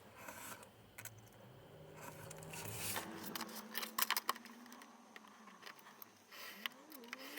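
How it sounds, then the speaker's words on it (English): A very sharp craft knife cuts the ends of a paper-covered pamphlet square in quiet, repeated scraping strokes, with light taps and rustles of paper handled up close. "So I'll cut the ends of the book off square using a very sharp craft knife"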